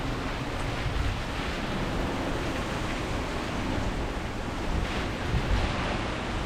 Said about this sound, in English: So if you can hear the wind